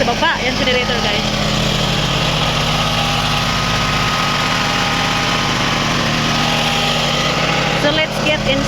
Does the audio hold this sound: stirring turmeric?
no